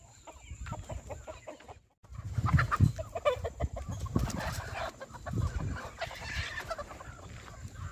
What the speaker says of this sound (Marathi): बघा कोंबडे आहेत पाठीमाग